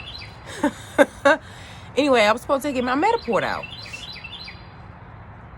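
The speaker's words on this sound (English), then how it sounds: "the birds are even getting louder. They getting rude." Birds chirp loudly outdoors in quick rising and falling calls, mixed in with a nearby person talking.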